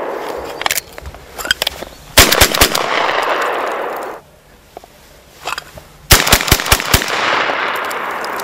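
A shotgun fired in rapid speed-shooting bursts, loud sharp cracks in quick clusters separated by a brief lull, then another fast volley with ringing echo, no talking.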